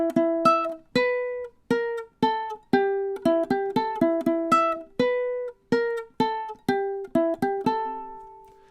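Plucked ukulele notes pick out a riff from the video game Undertale, played slowly with short, clear, decaying notes in an uneven rhythmic pattern with brief pauses and no voices.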